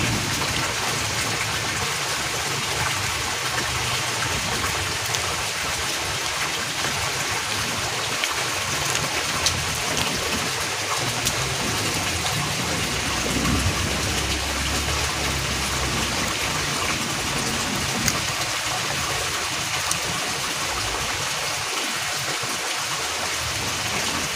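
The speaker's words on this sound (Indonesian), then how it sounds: "Udah teman-teman, hujannya belum reda." Heavy rain pours onto a hut built over a fish pond, a dense, steady hiss of drops drumming on the surface without pause.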